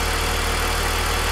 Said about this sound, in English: we'll keep the engine running till the thermostat open up